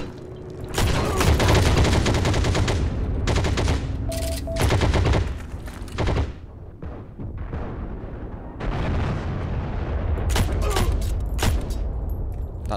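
Gunfire in the World War II shooter game Heroes and Generals, with rapid automatic bursts and single shots crackling loudly and close, broken by short gaps and a few quieter stretches.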